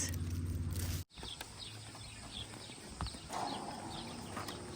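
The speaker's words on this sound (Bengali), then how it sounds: "এই যে ঘোড়াগুলো এই ঘোড়াগুলো ওরা নিজেদের বাহন হিসেবে ব্যবহার করে" Horses' hooves clip-clop at a steady walking pace, moderately close, over an outdoor background hum on an American farm, after an abrupt cut near the start.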